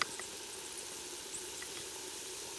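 Garlic frying with onions, leeks and carrots in a potjie pot over a wood fire, a steady close sizzle with faint occasional crackles and no talk.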